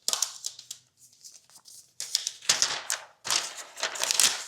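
Protective paper peels off an Apple USB-C Magic Keyboard in a series of crisp, papery tearing and crinkling bursts. They start out light and broken, then turn into longer, louder rips close to the mic, with no talk over them.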